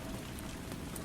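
Steady rain falls in a dense, even hiss with faint scattered drips, continuous and without voices.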